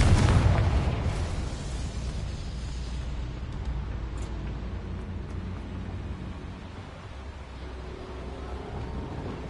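A Confringo fire spell explodes in the Hogwarts Legacy video game. It lands as a loud, heavy blast at the very start, then leaves a long rumbling tail that slowly fades.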